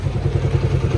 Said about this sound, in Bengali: পারফেক্ট একটা সাউন্ড হচ্ছে আমার বাইকের